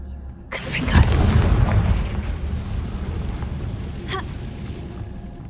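Confringo spell explosion in the Hogwarts Legacy video game: a sudden loud boom with a broad rumbling blast that decays over a few seconds, followed by a fainter secondary burst.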